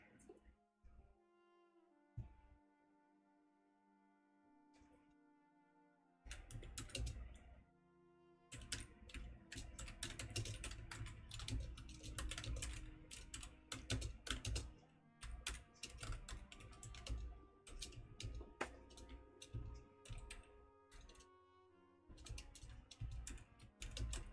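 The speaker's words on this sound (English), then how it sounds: "It sounds like I'm a loud typer, and I have a really hard time typing around my mic." Loud typing on a computer keyboard close to the microphone, with dense bursts of clicky keystrokes in irregular runs over background music, starting after a quieter opening stretch.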